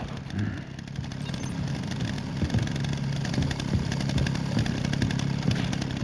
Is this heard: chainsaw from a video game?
yes